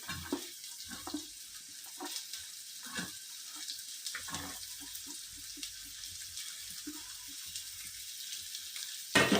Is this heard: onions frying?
yes